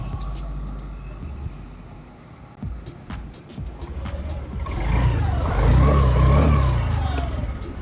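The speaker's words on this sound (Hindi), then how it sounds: "अभी जब मैं इस गाड़ी को स्टार्ट करूँगा तो इसमें आपके मोटर की कोई आवाज़ नहीं आएगी" Honda Activa 6G scooter starting silently with no starter motor whine, its engine catching and idling loudly up close in the second half after a quieter stretch of ambient noise and clicks.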